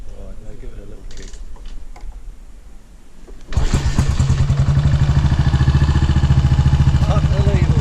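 A 1967 BSA motorcycle engine bursts into life after a kickstart, then runs loud and close with a steady rapid thumping idle; quiet shuffling and faint voices come before it starts.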